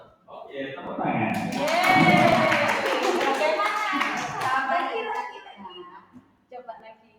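A round of applause from a group swells and holds for several seconds, with a voice talking through it before it fades.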